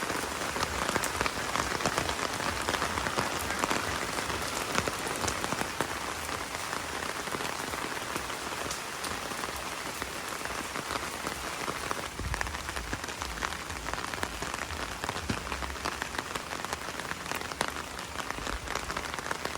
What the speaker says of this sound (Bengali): এগারোটার সময় বৃষ্টি চলে আসলো সবাই শুয়ে পড়েছে এখন বৃষ্টি আসলো